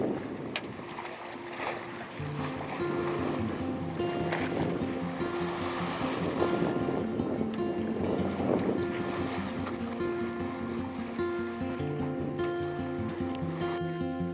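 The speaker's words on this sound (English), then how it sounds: "Switching off the engine, now sailing." A sailboat running downwind under sail alone with its engine off, in about 18 knots of building wind off the Turkish coast; steady wind rush and water swishing along the hull continue throughout, with a faint tonal hum underneath.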